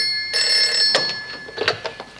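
A telephone rings at a detention centre office, a bright electronic trill that sounds once and then gives way to softer clicks and handling noises.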